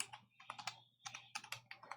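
Quick bursts of typing on a computer keyboard, clustered keystrokes in two short runs separated by a brief pause, close and fairly quiet over a faint steady hum, with no talking.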